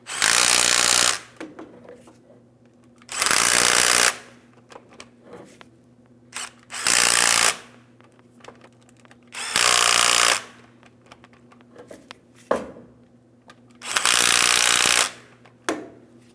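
A power tool drives the lower control arm bolts on a 2007-2014 GMC Sierra 2500 HD in five loud, close bursts, each lasting about a second, with quiet gaps and faint clinks between them.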